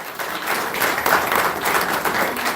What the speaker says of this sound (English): Let's give Soleil a round of applause.